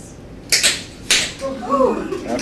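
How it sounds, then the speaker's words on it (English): A hard tap dance pullback step, feet pulled sharply back, lands as two crisp metallic clicks about half a second apart, followed by brief speech. "you pull your feet back really hard as you can"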